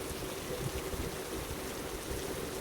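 Heavy hail and rain pour down in Maharashtra, a dense, steady hiss of falling water and ice with no let-up and no voices.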